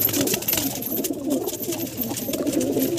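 Punjabi Madrasi pigeons coo steadily inside a loft, a soft, continuous throaty murmur with no one speaking.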